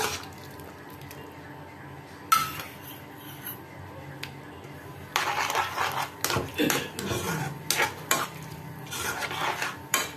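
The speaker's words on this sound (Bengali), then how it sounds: "এবার এটাকে ভালো করে একটু মিশিয়ে নিচ্ছি।" Potato curry being stirred in a pot for a sweet-shop style Kolkata dish served with kachori, with scraping and clinking of a utensil against metal that grows busier partway through, under speech.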